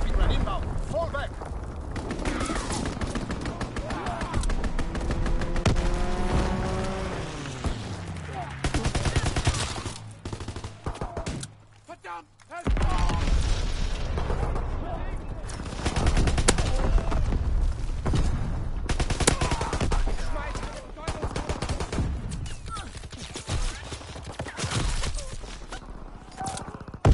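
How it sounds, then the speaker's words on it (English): Aircraft strafing runs in a World War II shooter deathmatch: sustained machine-gun fire and bursts of gunfire with a passing engine drone, mixed with explosions and frequent voice callouts over the top. "Enemy strafing run inbound."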